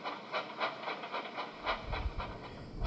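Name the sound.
stone train arriving in a Sodor story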